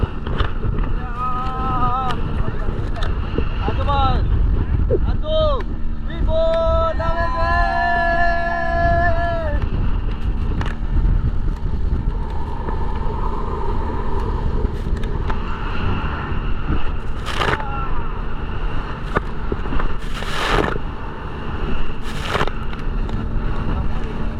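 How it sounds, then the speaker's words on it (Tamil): A speedboat cruises at sea off Havelock Island in the Andaman Islands, its engine drone and wind buffeting roaring steadily throughout, with voices and laughter heard over it. "இந்த ட்ரைனிங் செஷன் முடிஞ்சோடனே நம்ம ஸ்பீட் போட்டில் கொஞ்சம் தூரம் ஒரு ஒரு கிலோமீட்டருக்குங்க ட்ராவல் பண்ணுறோம்"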